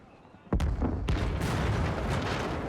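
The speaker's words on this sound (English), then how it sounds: "Your cannon fire tears through the enemy ship, splintering the hull and shredding the sails." Ship cannons fire a broadside in the game Pillars of Eternity II: Deadfire. Two heavy booming blasts land about half a second apart, then give way to a loud, sustained rumbling roar.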